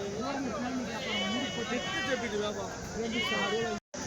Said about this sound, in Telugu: ఒక కట్ట మేకలు అయితే ఉన్నాయండి